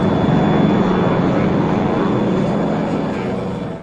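An airliner's engines roar in flight as a broad, loud, steady drone, heard close and continuous and fading slightly at the end, with no voices over it.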